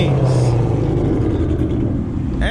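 A naturally aspirated Ford Mustang with a Coyote V8 pulls hard under full throttle, a loud continuous engine roar heard from inside the car, steady for about two seconds.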